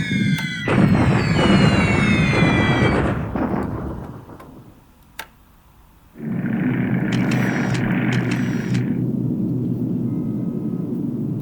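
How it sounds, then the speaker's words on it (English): Bombardment effects from the war strategy game War in the Pacific: rumbling explosions and booming blasts with whistling overtones, a deep drawn-out roar that fades, a single sharp thud, then another sustained thunderous barrage, loud and without speech. "And this is now the standard bombardment, more or less."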